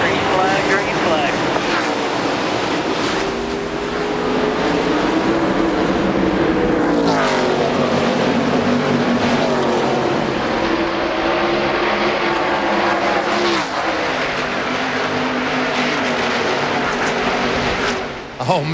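NASCAR Busch Series stock cars take the green flag at Darlington on a wet track, a loud continuous engine roar rising and shifting pitch as the pack sweeps into turn one, with an excited commentator talking over it throughout.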